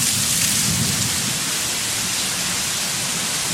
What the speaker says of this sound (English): It just came out of nowhere. It started downpouring.